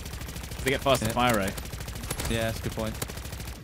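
Rapid bursts of SMG gunfire in Call of Duty MW3 Zombies, fast-firing shots crackling through the game mix while someone talks over them.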